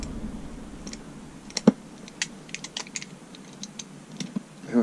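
A Stanley knife trims the corners of Fablon sticky-back plastic with light, scattered clicks and short scratchy cuts, close and fairly quiet.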